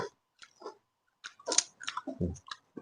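Close, crunchy chewing of khanom dok jok, a crispy Thai flower-shaped fried snack made with egg and flour, heard as irregular bites and crackly crunches with short pauses between, quiet and alone.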